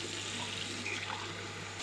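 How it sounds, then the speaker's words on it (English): Water runs steadily from a tap through a Waterdrop G3P800 filter as it is flushed, a continuous even splashing rush with no breaks. "So we'll run the water for about 10 minutes."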